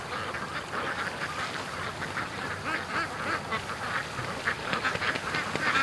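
About five ducks in a yard quack nonstop, rapid overlapping calls forming a lively chorus that grows slightly louder toward the end, with no one talking.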